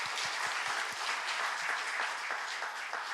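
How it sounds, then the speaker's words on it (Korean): A church congregation applauds a saxophone ensemble during a Lent revival service, filling the room with dense, even clapping, with a few sharper claps standing out near the front. "이런 박수 한번 쳐줘요."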